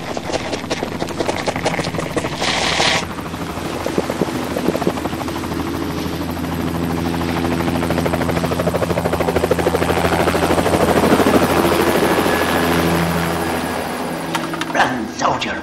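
A helicopter's rotor thumps loudly and steadily throughout, with engine whine and shouting voices over it, ending in a brief burst of noise.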